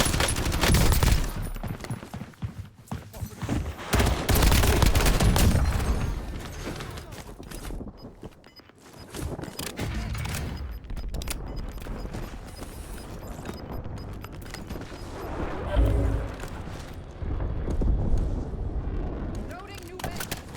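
Rapid gunfire from dual Vertox 5.7 pistols in a Call of Duty match on Rebirth Island, dense bursts of shots with heavy impacts and game effects, and a voice talking over parts of it.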